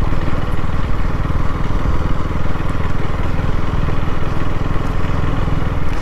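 A KTM Duke 250 motorcycle engine runs in a steady, loud, continuous drone with a rapid low pulsing throb, close by and with no talk over it.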